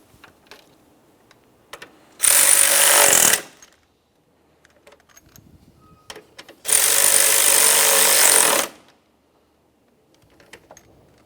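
A power tool drives the radiator fan assembly mounting bolts on a 2012-2015 Honda Civic 1.8L I4 in two loud, steady whirring bursts of about a second and two seconds, with quiet clinks and handling noise around them.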